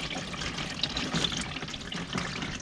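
Fluid from a Pinzgauer 710K military vehicle pours steadily into a drain tray on the floor, a continuous near splashing trickle with no talk.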